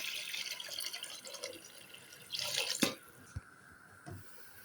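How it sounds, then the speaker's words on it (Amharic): A small amount of water is poured into a pan of fish sauce made with onions, cumin, curry powder and salsa. It is a short, splashy pour that swells near the middle amid soft trickling, followed by a couple of light knocks, with no talking. "ትንሽዬ ውሃ እንጨምርበታለን።"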